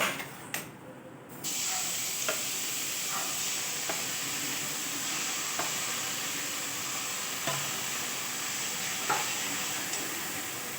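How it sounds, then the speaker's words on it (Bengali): Fresh chhana stirred in a karai for homemade sandesh. A steady low sizzle and hiss runs throughout, with faint, sparse scraping strokes scattered across it. "ছানাটা আমি কড়াইয়ের মধ্যে দিয়ে দিই"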